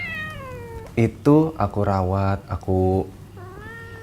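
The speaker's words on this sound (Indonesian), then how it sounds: "kebanyakan emang kucing-kucing kayak gini" Domestic village cats (kucing kampung) meow in a few drawn-out, rising and falling calls between stretches of someone talking nearby, the cries close and fairly loud.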